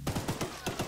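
Rapid gunshots fired at a target in the Choo-Choo Charles game, a quick run of close, crisp cracks in a tight, uneven rhythm over about a second.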